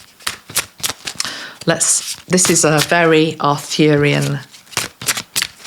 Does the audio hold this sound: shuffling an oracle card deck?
yes